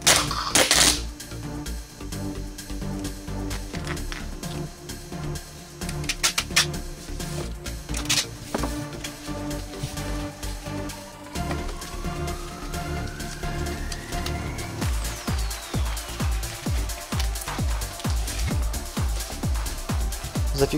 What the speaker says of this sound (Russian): теперь можно при помощи скотча все это соединить